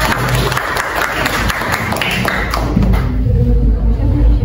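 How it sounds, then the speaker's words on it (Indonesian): Students in a classroom clap for a group that has just presented a science lesson on pressure in solids, loud and close, with thumps and some voices mixed into the applause, which thins toward the end. "Tepuk tangan untuk kelompoknya."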